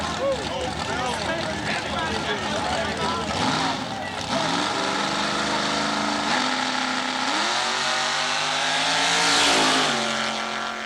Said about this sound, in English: Chevy Nova, he's got a big block under the hood.